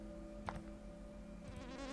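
Flies buzz in The Bug Catcher video game, graveyard level, a steady droning hum under game music with a brief louder swell near the start.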